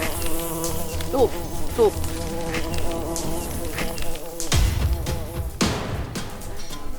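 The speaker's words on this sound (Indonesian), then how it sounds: "meski hanya 1-2 lebah yang berkeliaran di sekitar kita" Bees buzz around nearby outdoors, a steady insect drone punctuated by louder passes close by, while people talk briefly and other noises clatter in the background.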